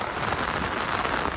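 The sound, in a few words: heavy rain falling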